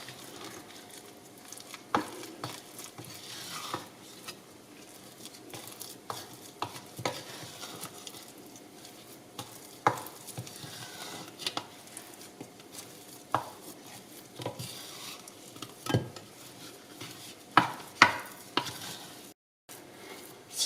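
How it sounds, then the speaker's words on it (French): Gluten-free pizza dough made with potato starch is mixed with a spoon, a quiet run of irregular scraping taps and soft knocks against a bowl, with no voices. "Et on mélange tout à l'aide d'une cuillère afin d'obtenir une boule de pâte."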